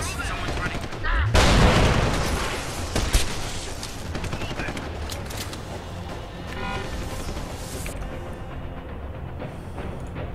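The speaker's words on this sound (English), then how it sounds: "equip concussion grenade now. Throw that in there." A concussion grenade goes off in Deus Ex: Human Revolution with a heavy booming burst, followed by a second sharp bang. Dense gunfire and game noise continue around it, and someone talks over the sounds.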